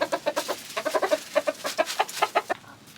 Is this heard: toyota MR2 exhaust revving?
no